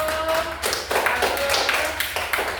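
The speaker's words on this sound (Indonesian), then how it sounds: "Tepuk tangan untuk kelompok 1." Classroom applause for a student group: a burst of clapping, moderately loud and fairly sparse, with uneven hand claps repeating through the short stretch.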